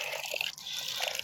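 Cold water runs from a tap at a roadside Rajasthani hotel, a soft splashing and dribbling stream that briefly dips before continuing, faint and close.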